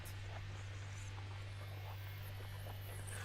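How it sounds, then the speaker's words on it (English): A laptop's cooling fan whirs loudly like a vacuum cleaner, a constant droning hum with a steady hiss and no break or change across the whole stretch. "my laptop's fan sounds like a freaking vacuum"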